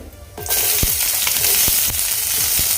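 Onion drops into a hot pan for spicy Puneri misal, and a loud, close sizzle flares up suddenly and keeps crackling steadily, with scattered pops and faint stirring scrapes.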